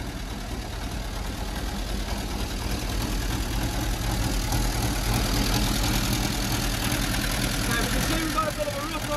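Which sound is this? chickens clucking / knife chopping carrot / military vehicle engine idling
military vehicle engine idling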